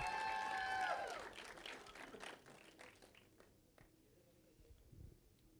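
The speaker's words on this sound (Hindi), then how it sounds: "शायरा खान के लिए जोरदार तालियां" A crowd at a Bollywood film promotion event claps for a co-producer, the applause loudest at first with some music, then thinning into scattered claps and fading.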